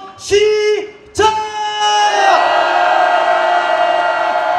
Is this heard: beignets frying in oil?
no